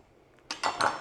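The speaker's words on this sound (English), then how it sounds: "just give the little stems a little cut" A knife makes a few short cuts through small herb stems for an avocado salsa verde cruda. Three quick, close clicks and scrapes follow a near-silent start.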